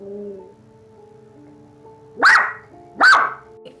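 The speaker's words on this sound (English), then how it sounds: "My dog started barking." Dog in a home gives two loud, sharp barks about a second apart, each rising out of a quiet room with low background hum.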